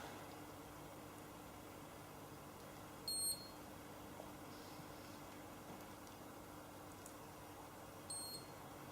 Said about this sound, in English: That final beep just tells me again that I've come to the end of that phase